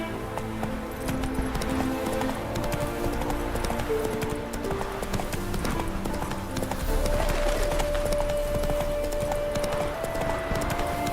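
A horse gallops in The Witcher 3, steady rapid hoofbeats running throughout under game music and background voices, with a brief snort or whinny.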